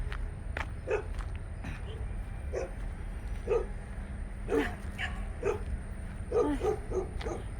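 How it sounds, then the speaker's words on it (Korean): A dog barks repeatedly from a short distance outdoors, giving a series of sharp yaps and woofs at an irregular rhythm over steady background noise. "얘가 짖네."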